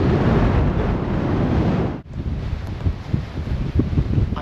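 Strong wind on a hilltop buffets the microphone in loud roaring gusts, briefly dropping out for a moment before rushing back in uneven bursts.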